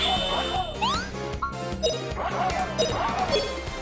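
Barking, yapping game sound from a dog-like monster in the RPG Grandia, with repeated yips mixed with battle effects, crashes and music, loud and busy throughout.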